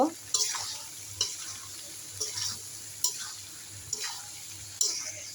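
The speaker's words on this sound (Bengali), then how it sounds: "এখন আমি এখানে অ্যাড করব ফাঁকি করা মানে গুঁড়ো করা সেই পাঁচফোড়নটা দিয়ে ভালো করে মিশিয়ে নেব" Ground panch phoron being stirred into raw mango pickle, with a series of separate scraping stir strokes about once a second over a low background hum.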